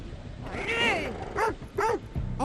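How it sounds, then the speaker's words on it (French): A dog in the horror video game The Devil in Me lets out three whining, yelping barks in quick succession, close and fairly loud over a low game backdrop. "Oh oui, le chien."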